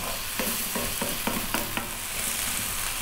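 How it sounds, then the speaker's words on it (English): Ginger garlic paste fries in a hot pan above medium heat for a vegetable curry, a loud, continuous sizzle broken by a few soft rhythmic stirring scrapes, close up and without talking. "We're now going to go in with that tablespoon of ginger garlic. And we're going to stay on this above medium heat for another 3 minutes."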